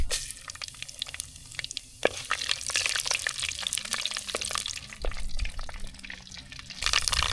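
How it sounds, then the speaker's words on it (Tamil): Fenugreek, mustard seeds and dried red chillies sizzle in hot oil, a dense close crackle with many sharp pops and spatters over a continuous hiss. "எண்ணெய் நல்லா சூடாயிடுச்சு வெந்தயம் கடுகு வரமிளகாய் இதெல்லாம் சேர்த்துக்கலாம்"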